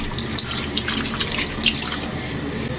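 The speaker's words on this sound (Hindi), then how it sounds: "सबसे पहले डालते हैं पानी" Water poured into a bowl or pot while preparing chicken pakora, a steady splashing, trickling stream that runs continuously at close range.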